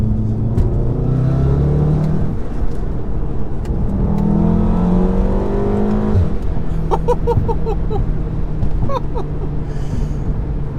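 A stage 2 tuned 2016 VW Golf R revs hard while driving in traffic, its engine note rising and falling loud and near from inside the car, with crackling pops toward the end.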